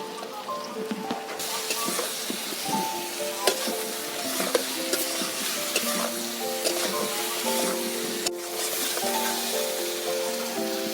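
Onions crackle and sizzle in hot oil while a spoon stirs and scrapes the pan repeatedly, close up and steady for several seconds.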